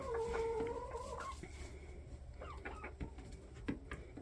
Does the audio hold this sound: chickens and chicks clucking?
yes